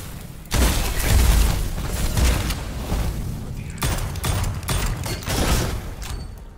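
Heavy shotgun blasts boom repeatedly in the dark fantasy shooter Witchfire, loud and dense with a few brief pauses, mixed with mechanical clatter and creaks.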